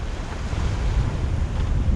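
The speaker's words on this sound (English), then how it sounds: "Oh, look at the waves going over the bow. It's so gusty." Gusty wind buffets a sailboat beating upwind off Martinique in the Caribbean as waves break over the bow, making a loud, constant roar of rushing air and water with no pauses.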